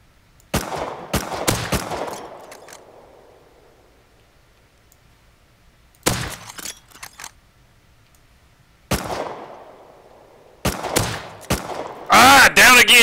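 Gunfire in the survival game Rust, rapid bursts of automatic shots in several separate volleys with quiet gaps between, ending in a loud, dense stretch of fire.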